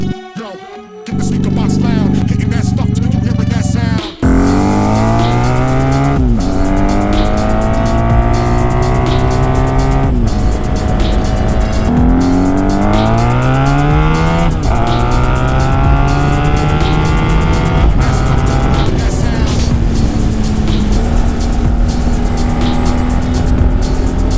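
A 1990s Honda Magna motorcycle being ridden, its engine loud and close, revving and changing pitch through repeated accelerations and gear shifts over a steady droning run.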